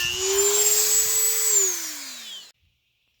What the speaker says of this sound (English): I use a Dremel for it because it's much more precise than an angle grinder for the final bevel.